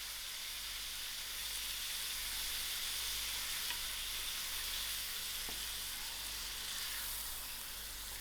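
Mutton and cauliflower curry fries in a pot with a loud, continuous sizzling hiss that holds steady throughout, close and unaccompanied by speech.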